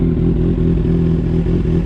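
A Kawasaki Z800 motorcycle engine idles steadily nearby, a low, even rumble with a faint clattering pulse and no talking.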